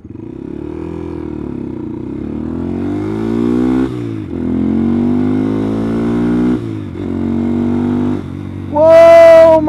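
A small Honda Grom motorcycle engine drones loudly while riding, its pitch rising and dipping through gear changes, then a sharp high rev bursts out at the end.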